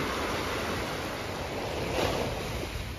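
Ocean waves washing onto a Florida beach at sunrise, a continuous broad roar of surf with a gentle swell in the middle, close and steady, no voices.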